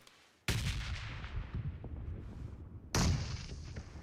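Grenade blasts in the mobile battle royale game PUBG Mobile: two sudden loud booms with rumbling tails, the second arriving a few seconds after the first.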